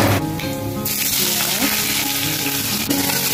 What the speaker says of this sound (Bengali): পেঁয়াজটা একটু ভাজা হোক, একটু ব্রাউন হবে।